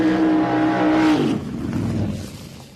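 A dragster at a Queensland drag racing championship qualifying session gives a loud, steady high engine howl. The howl drops sharply into a receding rumble as the car pulls away.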